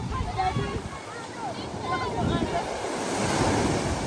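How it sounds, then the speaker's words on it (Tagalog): Sea waves at General Nakar surging and washing steadily, with wind rushing across the microphone throughout. "Biglang lumakas. Ginulat kami ng alon."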